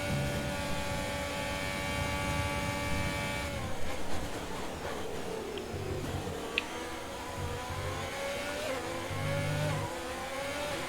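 Race car engines from the F1 2020 game whine steadily under a safety car restart, a continuous droning engine note with shifting pitch and a brief high click partway through.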